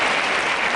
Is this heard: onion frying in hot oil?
no